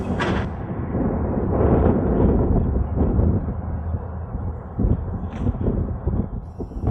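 Strong wind gusting across an outdoor Ultimate Frisbee field in Boulder, buffeting the microphone with loud, continuous low rumble and uneven bursts throughout, with no talk.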